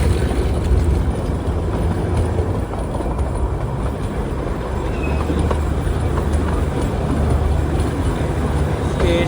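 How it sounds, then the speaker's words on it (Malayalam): Darjeeling Himalayan Railway toy train running steadily toward the next station on the New Jalpaiguri to Darjeeling line, a continuous low rumble and rattle of wheels and carriages throughout, close and fairly loud with no speech. "ട്രെയിൻ ഇപ്പോൾ അടുത്തൊരു സ്ഥലത്തേക്ക് ഇതാ എത്തുകയാണ്."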